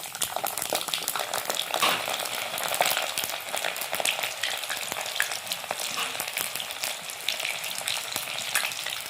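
Cumin and garlic frying in a generous amount of oil for bitter gourd pickle, a dense, continuous close sizzle with stirring scrapes and spatters, no voices over it.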